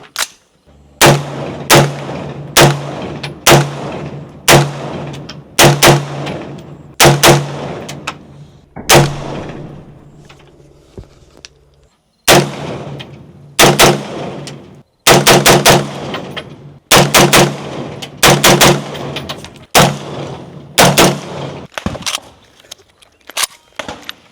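Two rifles fired in rapid bursts and single shots outdoors, loud sharp cracks arriving in dense clusters separated by short pauses, with echoing tails after each volley.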